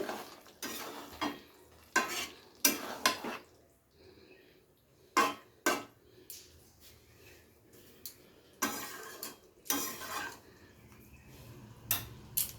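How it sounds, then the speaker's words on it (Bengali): Onions for a katla fish curry are stirred in a pan over a medium-to-low flame: intermittent scraping and clinking of a utensil against the pan in short bursts, with quiet gaps between. "তো খুব ভালো করে পেঁয়াজগুলোকে মিশিয়ে নিয়ে আবারও কিন্তু মিডিয়াম টু লো ফ্লেমে রান্নাটা করে নিতে হবে।"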